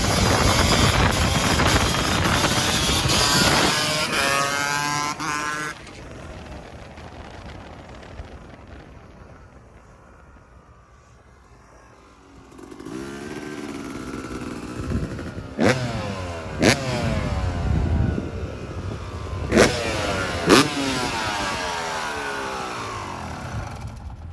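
A Yamaha YZ250 big-wheel two-stroke dirt bike is ridden hard off-road, loud and close with revving bursts, fading away in the middle before returning with sharp throttle blips and clattering.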